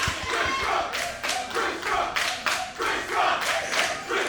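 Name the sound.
wrestling crowd cheering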